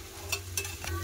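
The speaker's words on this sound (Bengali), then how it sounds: "মাছের মাথা দিয়ে জিরা দিয়ে টমেটো ভালো করে কষে দিয়েছি।" Fish head frying with cumin paste and tomato in a pan, a soft sizzle punctuated by a few brief scraping stirs of the spatula, close and fairly quiet.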